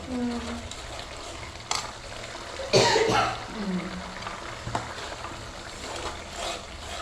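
Beetroot appam batter with sugar being stirred in a bowl, giving soft scraping and sloshing strokes with a sharper clatter midway, close by, and a faint voice around it.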